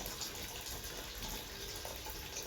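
Water runs steadily from a tap and overflows, a constant close hiss and gush with no breaks and no voices.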